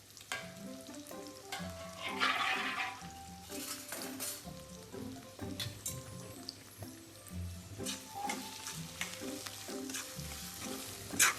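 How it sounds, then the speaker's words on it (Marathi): Onion sautéing in a pan with bay leaf, cloves and black pepper for a vegetable dum biryani, a steady sizzle under repeated scraping and clinking of a spoon stirring, close and moderately loud, no talking. "त्याच्यात मी आता हा जो कांदा आहे तो मस्त गोल्डन होईपर्यंत परतवून घेणार आहे"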